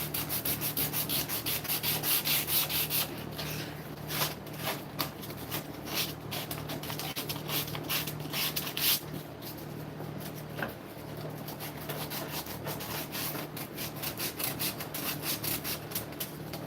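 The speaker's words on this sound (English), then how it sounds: "That's the part I hate the most, is sanding." Maple wooden lids for a gecko dig box being sanded with steady, repeated rubbing strokes, close and continuous with a rhythmic back-and-forth texture throughout.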